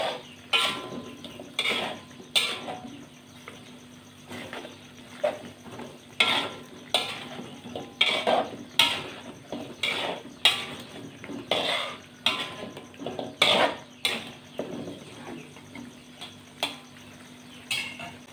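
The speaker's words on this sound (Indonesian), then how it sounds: "Setelah kasih garam diaduk biar meresap ini garamnya." Spoon scraping and clinking against a pan while stirring salted semur jengkol, a sweet soy-braised jengkol stew, in steady repeated strokes, close and fairly loud with a faint simmer underneath.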